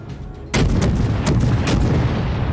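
The Russian Tier II cruiser Novik fires its guns in World of Warships: after a low rumbling lull, four heavy booming shots land about half a second apart, each trailing into a long, rolling echo.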